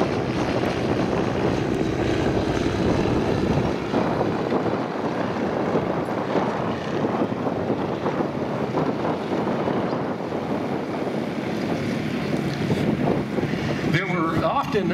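Boeing Stearman biplanes fly past in a parade review at an air show, a continuous loud engine and propeller drone mixed with heavy wind noise, while an announcer talks over the sound.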